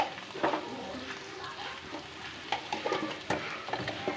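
Ground cumin and chili powder fry quietly in a pan, with a faint sizzle under intermittent spatula scrapes and taps as the spices are stirred.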